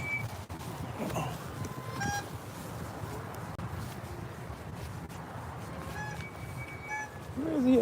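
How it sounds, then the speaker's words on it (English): A goose honks faintly in the distance during light drizzle outdoors, a few scattered calls over steady background noise. "Sound like a goose somewhere."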